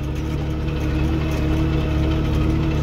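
A farm vehicle's engine runs loud and steady while spraying herbicide on a sunflower field, a dense continuous drone with a slight rise as it accelerates, close up and without talk.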